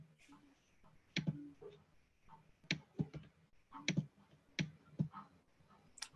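Keyboard typing into an online chat, quiet scattered clicks and taps in short irregular bursts, soft and close with low background.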